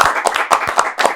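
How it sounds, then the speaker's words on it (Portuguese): A few hands clap in a quick, uneven burst of about five sharp claps in a studio after a birthday cake is brought out, close and lively. "Palmas."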